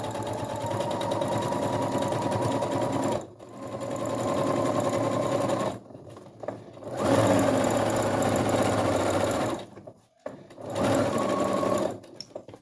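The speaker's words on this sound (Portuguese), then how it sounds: "vamos passar uma costura agora aqui, em cima da fralda" A sewing machine runs steadily, stitching a seam along a cloth diaper, its motor whir continuous with a few short pauses and a brief stop near the end before resuming.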